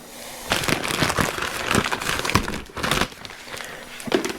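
Plastic packaging for a motocross dirt bike fender being opened by hand, producing bursts of crinkling and crackling plastic up close with short pauses between handlings.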